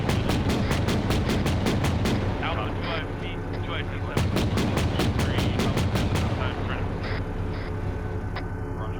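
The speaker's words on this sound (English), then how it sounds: "They're shooting at me." Rapid bursts of gunfire ring out in Arma squad training gameplay. Two volleys of quick, evenly spaced shots stand out loudly over a constant battlefield rumble, with voices faintly underneath.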